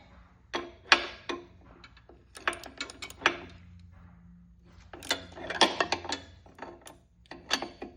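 Bolts on an exhaust bracket of a 2016 Harley Ultra Limited Classic being loosened with a ratchet, heard as quick clusters of metallic clicks in short bursts separated by pauses, close and fairly crisp.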